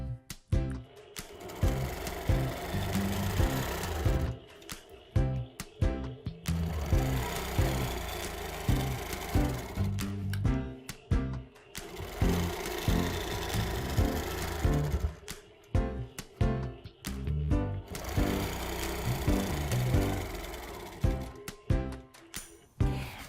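A longarm quilting machine stitching a quilt with small squares, running in long steady bursts of rapid mechanical whirring separated by brief pauses, close and alone.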